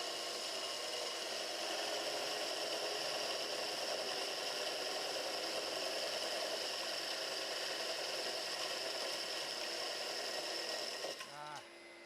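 Core drill bit boring into a brick held in place, a steady grinding whine running continuously for about eleven seconds before abruptly winding down at the end.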